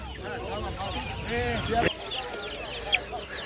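Bantam chicks and other poultry at an Adana bird market, including mixed-breed chicks, give steady clucks, cheeps and chirps through a crowded stretch, with voices of people talking nearby.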